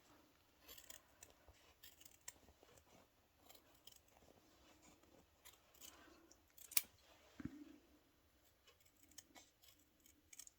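Scissors cutting felt for the back panel of a camellia brooch, quiet close-up snips and crisp crunching cuts at an irregular pace with a few sharper clicks, all faint in a still room without speech.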